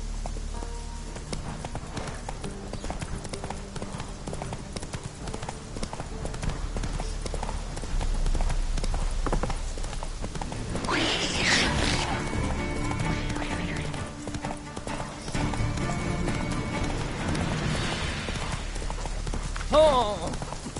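Horse hooves clip-clop at a gallop in The Witcher 3, a steady rhythmic pounding running the whole stretch under game ambience, with a neigh partway through and a voice speaking over it.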